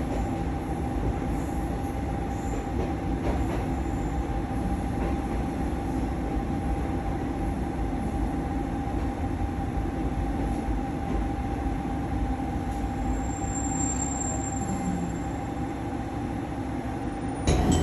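Steady rumble of a train running along a Japanese railway line toward Shimodate Station, heard from inside the car, with continuous wheel and track noise and a faint high whine throughout.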